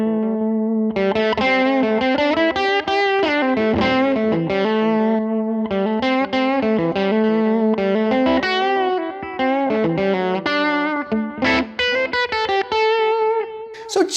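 An electric guitar plays a run of notes and chords through a Line 6 Helix Tone Sovereign drive set to boost mode, sounding loud and close with only a slight bite of grit.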